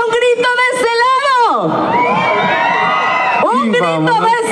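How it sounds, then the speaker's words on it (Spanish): A carnival crowd at the Mixquiahuala Carnaval in 2024 lets out a loud, sustained shout with whoops and rising cheers, which swells and then fades into a mass of voices close by. "A ver, ahora un grito de este lado."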